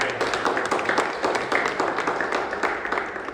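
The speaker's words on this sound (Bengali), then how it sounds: "স্যারের জন্য আমরা একটা হাততালি দিয়ে স্যার" A group claps in appreciation for a respected sir at a gathering, producing a dense, brisk patter of hand claps that stays fairly even throughout, with no voices over it.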